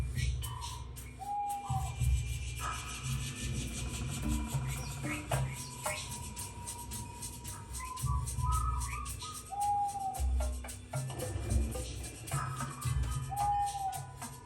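Birds chirping and whistling in an animal-sound demo track played on a Sony HT-A9 soundbar, with short tweets over a low rumbling bed at moderate volume.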